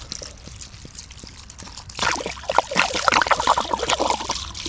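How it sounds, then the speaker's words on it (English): Alcohol is poured over lemon rinds in a big bowl for homemade limoncello, a steady close splashing pour that starts after a few quiet clicks and keeps running to the end. "Pour the alcohol on."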